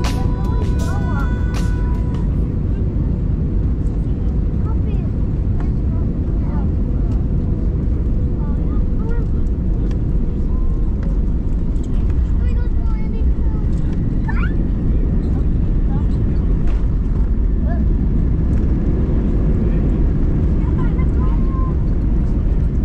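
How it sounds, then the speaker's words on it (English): Inside the cabin of a Jetstar Airbus A321ceo landing at Brisbane, a steady, loud roar of engines and rushing air carries on without a break, with faint rattles and clicks in the background. "Now please enjoy this unedited landing."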